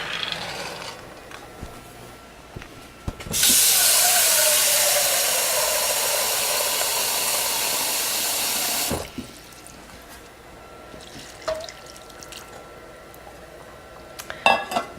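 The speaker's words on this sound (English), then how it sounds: "place the beans in the pan or pot and cover them with water." Water pours from a tap into a pot of beans for a cooking demonstration, a steady loud hiss and splash lasting several seconds before cutting off, with faint kitchen clatter before and after.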